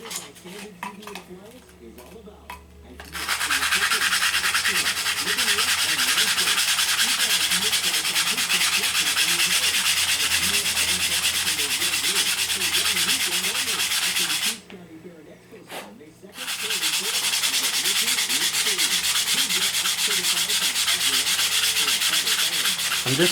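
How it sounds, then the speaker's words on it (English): Loud, steady rasping of a sanding board worked back and forth across wood, running continuously with one brief pause before resuming. "I'll do that off screen with my sanding board"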